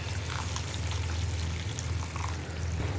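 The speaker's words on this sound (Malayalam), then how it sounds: "അപ്പോൾ ഞാൻ കുറച്ചുകൂടെ വെള്ളം ചേർക്കുകയാണ്" Water is poured into a simmering egg curry gravy in a pan, giving a continuous close splashing pour over a low bubbling hiss, with no talking.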